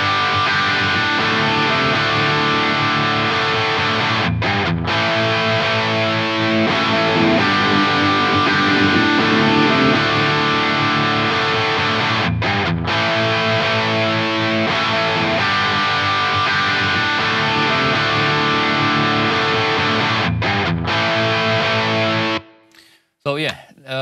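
Distorted electric guitar played through a Line 6 modeler, loud sustained chords with brief stops and a ringing tail, continuous for over twenty seconds.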